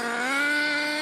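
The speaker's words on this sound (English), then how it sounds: "Excuse the noise in the background, I've got someone in a model car, flying his model car." A model car's small engine whines steadily at a high, buzzing pitch, holding a constant tone in the background without any speech.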